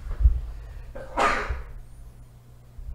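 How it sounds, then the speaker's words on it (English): A single sharp sneeze bursts out close by after a short intake of breath, then quiet. "I have to sneeze"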